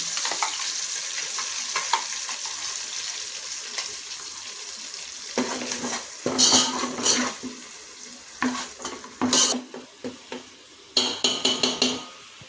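Masala paste with a bay leaf frying in hot oil for mint rice, stirred in the pan: a steady soft sizzle, then louder bursts of scraping and spattering as the spoon moves through the paste, with no talk.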